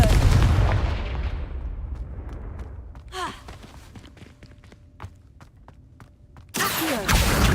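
Confringo fire spells blasting in the Hogwarts Legacy video game, with loud bursts at the start and end and sharp impact cracks in between.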